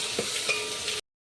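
Green chillies roasting in a hot pan give off a steady, close sizzle with faint stirring scrapes, heard alone for about a second before cutting off.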